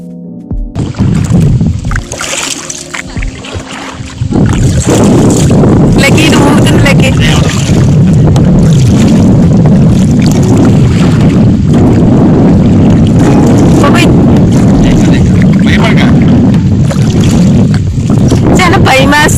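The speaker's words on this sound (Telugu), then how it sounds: "ఎవరు రారనమాట, మనమే సెల్ఫ్ తీసుకెళ్ళాలి బోట్" A small self-driven boat moves steadily across water at Kambalakonda Eco Park, with loud, continuous wind buffeting the microphone over a low churning rumble, and voices talking throughout.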